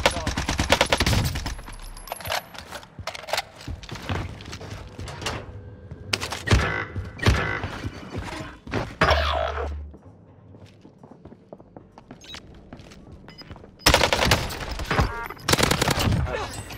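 Gunfire in the video game Warzone comes in rapid bursts of sharp shots and clattering impacts, some loud and close, broken by a quieter lull before another heavy burst at the end.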